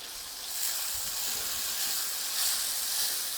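Medium-sized tomato pieces added to a hot pan of tempered spices and garlic for a Gujarati parval (pointed gourd) curry, sizzling with a steady hiss that swells slightly as they hit the oil.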